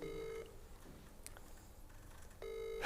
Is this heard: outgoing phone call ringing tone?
yes